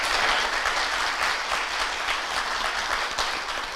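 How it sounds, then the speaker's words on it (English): Audience applause for panelists at a data meetup event, a steady, dense clapping that fills the whole stretch at even loudness with no voices over it. "Big applause for them"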